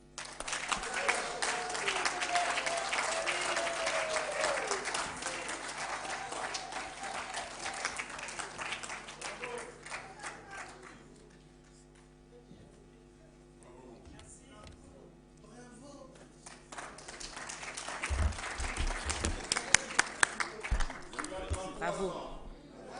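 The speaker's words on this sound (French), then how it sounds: "Je pense qu'on peut encore l'applaudir." Audience at an economic forum on development in the DR Congo clapping, a sustained round of applause that fades out midway, then swells again near the end with a voice speaking over it.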